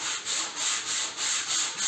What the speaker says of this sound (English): you're sanding that whole panel